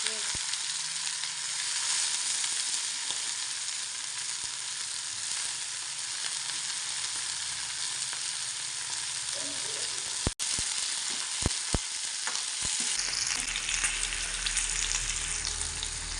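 Flat beans (ghevda) frying with garlic and mustard seeds in a pan, a steady close sizzle with a few sharp clanks of a utensil stirring near the end, no talking.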